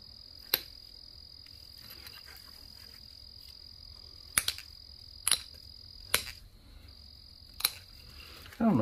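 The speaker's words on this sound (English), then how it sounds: "June bugs are back." June bugs on a warm spring evening outdoors, a steady high insect drone with several sharp clicks or taps spaced apart, faint and close.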